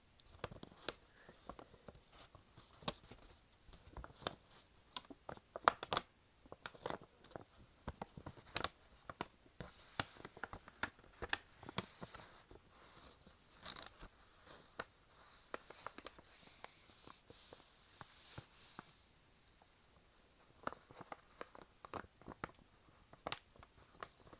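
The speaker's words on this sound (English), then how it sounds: "I'm just going to do some paper sounds" Paper is handled closely for ASMR, with soft crinkles, rustles and scratchy taps in an irregular flow. The sound is quiet and intimate, and there is no talk over it.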